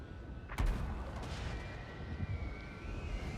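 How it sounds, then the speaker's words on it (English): Mortar shots in Total War: Warhammer 2 battle, a sharp boom near the start followed by rumbling distant impacts over a continuous low battlefield roar. "We have some mortar shots coming in trying to take that Hellstorm rocket battery out"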